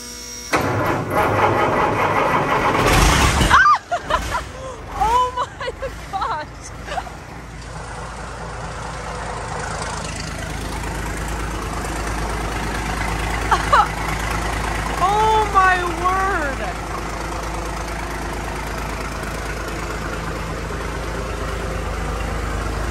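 An old 6x6 vehicle that has sat unused for 10 years cranks loudly, catches, and settles into a rough, knocking idle, with voices talking over the running engine.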